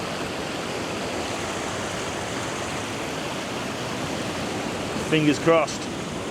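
Ocean waves break on a beach at sunrise, a broad continuous wash of surf and white water, with someone speaking briefly near the end.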